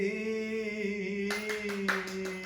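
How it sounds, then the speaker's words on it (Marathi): Applause after a song sung in memory of a late mother: a brief burst of hand clapping breaks out halfway through, over a lingering sustained musical tone, with a few louder claps near the end. "टाळ्या."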